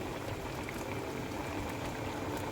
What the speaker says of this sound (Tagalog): Kulo-kulo na siya, guys.